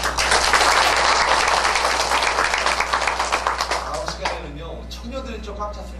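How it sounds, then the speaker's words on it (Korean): A church congregation at a Friday prayer meeting claps loudly, the applause thinning and tapering off into scattered claps as a voice begins to speak. "우리 사무실에 계시는 우리 애기 어머니 아버지들 우리 박수로 격려하시면 좋겠습니다"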